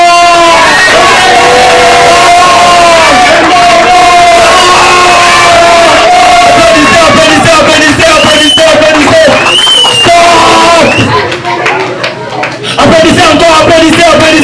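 A large concert crowd in Kinshasa roars with cheers and shouts, loud and sustained throughout, briefly dipping near the end before swelling again.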